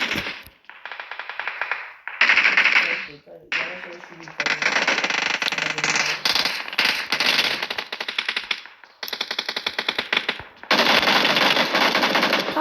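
Long, loud bursts of rapid automatic machine gun fire in a video game come in several volleys separated by short pauses, with a player talking between them.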